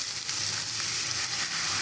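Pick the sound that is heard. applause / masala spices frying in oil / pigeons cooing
masala spices frying in oil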